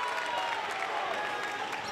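A crowd at a high school basketball game between Milford and Canton claps and cheers steadily, a dense wash of applause filling the space, while an announcer's voice comes faintly through.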